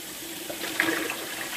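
Tap water runs in a steady hiss, splashing as mushrooms are rinsed beneath it, close and continuous, without any talking.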